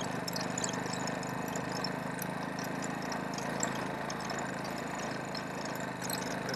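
A JSD100 motorcycle engine running steadily in second gear, a constant mid-pitched hum with no talk over it.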